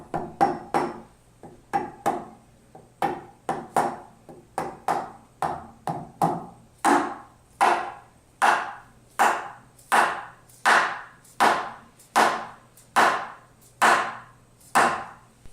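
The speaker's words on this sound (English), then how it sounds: "Use a hard rubber hammer to lightly tap the ring gear into place." A hard rubber hammer taps a ring gear onto a pump crankshaft in about two dozen firm, evenly spaced knocks, the blows coming slow at first and then in a steady rhythm with a short ring after each.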